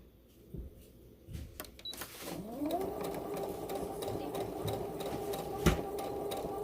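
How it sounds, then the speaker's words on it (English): Sewing machine stitching a strap, its steady motorized hum starting after a few scattered handling clicks and running continuously at close range, with no talk over it. "You're going to sew the strap"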